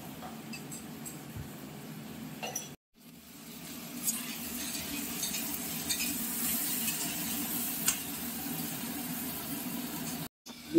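Ginger, green chilli and cumin paste sizzles and sputters in hot oil in a pan, a soft continuous frying hiss with light stirring scrapes, broken by two brief silent gaps.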